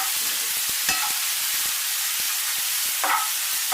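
Onions fry in a pan for an egg masala dosa with a continuous bright sizzle and hiss. A spoon stirs and scrapes them in a few short strokes.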